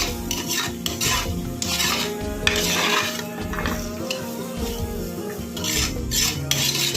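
Millet rice mixed with turmeric being stirred in a pot, a busy run of metal spoon scraping and clinking against the vessel with faint sizzling underneath, fairly close and continuous.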